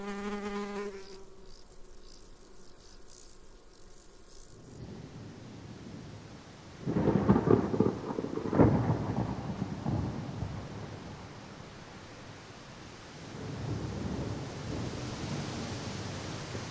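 Thunder from an approaching storm over an Alpine meadow, deep rolling rumbles that swell loudly, fade and rise again, after a high buzzing insect-like drone that cuts off early.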